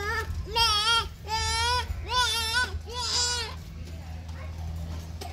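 A goat at a petting farm bleats four times in close succession, loud and near, over a low background hum, with faint children's voices in the background.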